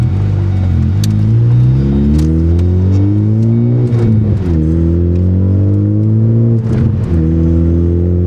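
A VW MK8 Golf R with a straight pipe exhaust idles loudly and revs in a steady, throaty drone, with the engine pitch rising and falling through several blips. The sound is close and continuous with no voices.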